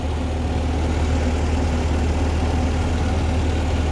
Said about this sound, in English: We're out on the tractor ride today.